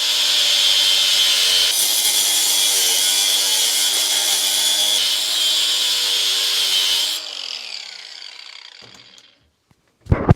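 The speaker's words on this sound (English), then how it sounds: "After the stud is cut" A power tool saws through a threaded steel stud for a vehicle awning mount, a loud, bright, continuous grinding cut lasting about seven seconds before it winds down and stops, ending in a couple of sharp knocks.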